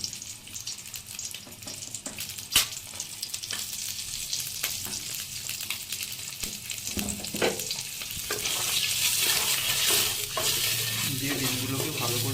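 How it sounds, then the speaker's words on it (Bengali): Eggs sizzling in oil with turmeric powder for a homemade egg curry, a steady frying hiss broken by scattered stirring clicks and scrapes against the pan, building louder toward the end. "দিয়ে ডিমগুলোকে ভালো করে ভেজে নেব।"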